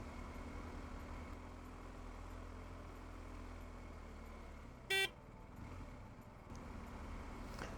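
City road traffic in Kartal, heard from a motorcycle: a steady rumble of engines, with one loud car horn toot near the middle cutting through the traffic noise.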